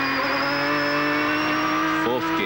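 A GT race car corners at Silverstone during 2001 FIA GT Championship qualifying, its engine holding a loud, steady high-pitched drone close by, with a brief wavering squeal of tires near the end.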